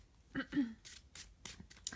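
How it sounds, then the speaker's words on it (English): Tarot card decks are given a quick shuffle, with a few soft, brisk riffling bursts, close and fairly quiet, followed by light taps. "I'm just giving these a quick shuffle while some people are hopping on"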